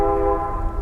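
A train horn blows as a steady held chord, loud with a low rumble beneath, the brief blast cut short.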